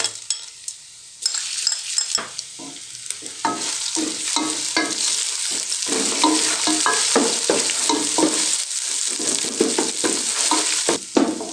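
Steady sizzling of garlic and ginger frying in a hot pan, with intermittent scraping and stirring of a utensil against the pan throughout.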